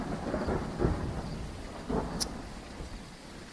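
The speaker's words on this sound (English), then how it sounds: "That's enough of that thunder." Thunder rumbles through a rainy storm ambience in the video game Phasmophobia, with rolling low booms near the start and again about two seconds in, plus a brief sharp crack.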